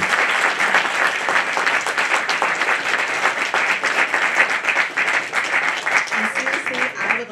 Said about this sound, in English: So can we just do one more round of applause for both of you?